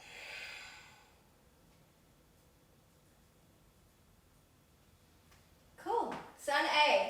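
A long breathy exhale opens a yoga sun salutation, soft and close, followed by quiet stillness, then breath and voice sounds return near the end.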